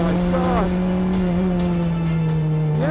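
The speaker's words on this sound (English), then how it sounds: "The engine revs really high. It's a specially built four-cylinder." A BAC Mono's specially built four-cylinder engine revs high at close range in the cabin, a loud sustained engine tone that climbs and falls between shifts, with someone speaking over it.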